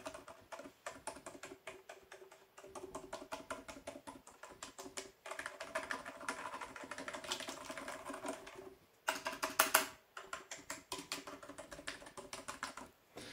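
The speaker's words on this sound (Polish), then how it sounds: "posłuchajcie sobie, jak pracuje ta klawiatura" Rapid, soft clicking of keys on a quiet Genesis Thor 303 TKL mechanical keyboard, steady bursts of typing with brief pauses, close and muted.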